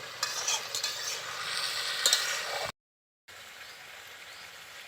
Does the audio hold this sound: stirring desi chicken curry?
yes